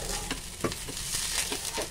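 Oil sizzles on a hot tawa over a high gas flame as a dosa cooks, a steady close hiss with small crackles and a few soft scraping touches, no voices.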